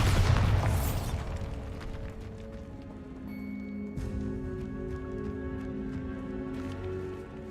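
A Bombarda spell explosion in Hogwarts Legacy opens with a loud, deep boom that rolls off into a long rumbling decay. Sustained musical tones and faint clattering follow, and no voices are heard.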